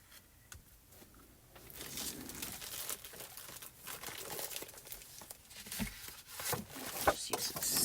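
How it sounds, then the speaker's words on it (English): A sheet of paper being picked up and handled as a shim at a hot foil press, giving soft crinkling and rustling that builds from quiet to moderate, with brief crisp crackles near the end and no voices. "So let me grab a paper shim real quick."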